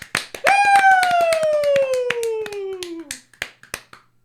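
A few people clap in sharp, irregular bursts of hand claps and snaps at a casual kitchen-table talk show, under a loud descending tonal whistle or sound effect that fades after three seconds.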